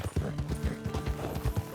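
Horse hooves clip-clop steadily at a walking pace in Red Dead Online, a regular close rhythm of soft thuds with a faint in-game backdrop.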